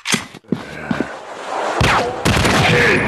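Gunfire in the zombie shooting video game Fire Strike: several sharp close shots crack in quick succession, followed by a longer burst of rapid fire and heavy impacts, loud and punchy with no talk.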